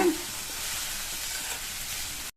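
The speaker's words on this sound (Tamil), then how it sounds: "தேங்காய் துருவலை சேர்த்து நல்லா ஒரு தடவை சிம்லேயே வச்சு மிக்ஸ் பண்ணி விட்டுருங்க." Grated coconut mixed into a cabbage stir-fry in a pan over low flame, a continuous soft sizzle and scraping hiss that cuts off abruptly at the end.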